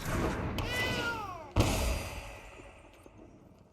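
A cat token in the digital card game Magic Arena gives a short synthesized meow with a falling pitch, followed by a sharp thud as it lands, then a fading tail under low background noise.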